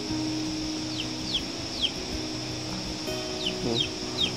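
Chickens cluck in short intermittent calls, with a few sharper squawks, over a steady background hum of outdoor ambience; no one speaks.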